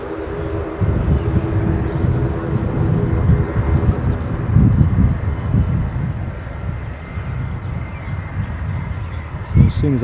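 An ATR turboprop taxis at Edinburgh airport, giving a steady, fairly close low engine rumble mixed with wind, with people talking over it.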